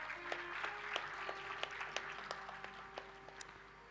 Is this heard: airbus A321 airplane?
no